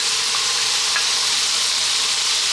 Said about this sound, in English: We're now going to drop in that onion.